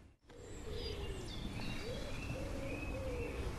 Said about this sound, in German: Ringeltaube, ja,